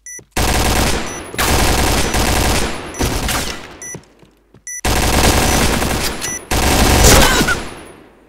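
Loud bursts of automatic gunfire from the video game Point Blank: several long, sustained volleys with brief gaps between them, close and dense, with no talking.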